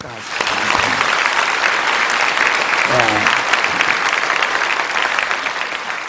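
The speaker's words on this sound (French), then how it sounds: "Applaudissons ceux qui vont se faire baptiser aujourd'hui." A church congregation applauds people about to be baptized, with loud, dense, sustained clapping throughout and a voice rising briefly through it midway.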